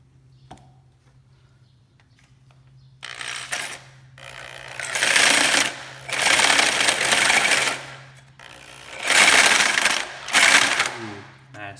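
A fresh carbide hole saw cutting into a foundry furnace, loud grinding bursts that swell and fade in four or five long pulses after a quiet start, up close with no talk.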